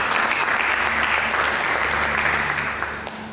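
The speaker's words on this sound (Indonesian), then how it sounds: "Mari kita berikan tepuk tangan." A church congregation claps together in a dense, steady burst of applause that fills the room for a few seconds, then begins to thin toward the end.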